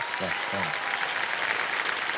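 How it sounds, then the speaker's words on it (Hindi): A television quiz-show studio audience applauds steadily for a contestant; a brief voice speaks near the start before the clapping carries on alone. "तालियां बज जाए"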